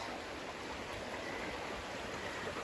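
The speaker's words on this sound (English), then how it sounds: "I really want to show you this waterfall" A waterfall roars as a steady, even rush of falling water, constant and broadband with no breaks, moderately close and alone without any voices.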